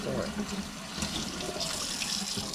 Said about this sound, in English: I still wash my hands with the gloves on